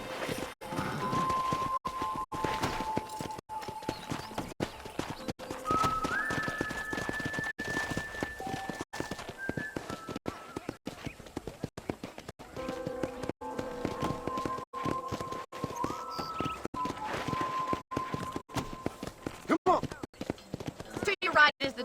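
Horse hooves clip-clopping at a steady walking pace in the Red Dead Redemption video game, running continuously beneath ongoing talk and game music.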